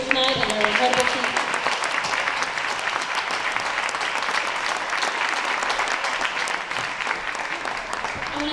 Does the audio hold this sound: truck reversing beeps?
no